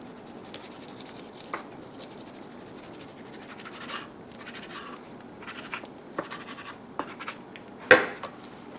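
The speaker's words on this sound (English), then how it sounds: "I'm going to just cut right along that backbone, separating the meat of the thigh from the backbone" Knife cutting raw chicken along the backbone to separate the thigh meat, quiet close scraping and slicing with small irregular ticks and one sharper snap near the end.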